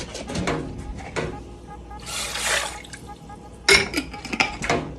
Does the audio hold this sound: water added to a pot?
yes